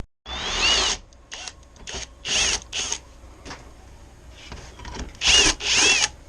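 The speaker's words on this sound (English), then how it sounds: "Got my holes drilled" Power drill boring bolt holes in short bursts, about eight separate whining spurts of varying length with quiet pauses between, close and loud.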